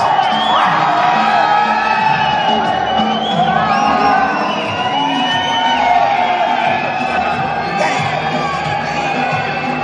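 A loud crowd at a boxing media workout for Errol Spence Jr. vs. Yordenis Ugas cheers, whoops and shouts continuously, with voices calling out over the sustained roar.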